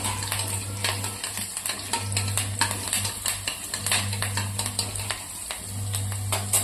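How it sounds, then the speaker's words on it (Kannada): Green chillies fry in hot oil in a pan, giving a dense, continuous close sizzle with scattered crackles and occasional utensil scrapes, over a steady low stove hum. "ಎಣ್ಣೆ ಕಾದೈತ್ರಿ ಹಸಿ ಹಸಿಮೆಣ್ಸಿನ್ಕಾಯಿ ಹಾಕೋದು"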